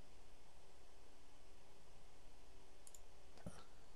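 Computer mouse buttons give a couple of faint, sharp clicks near the end of the stretch, set against steady low hiss and quiet room noise while working in mesh-editing software.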